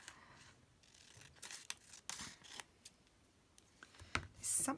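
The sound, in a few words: scissors trimming a paper piece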